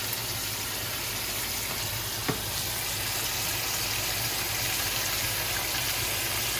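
Scrambled eggs fry in a pan with bacon, giving a steady, fairly loud sizzle and hiss throughout with no talking.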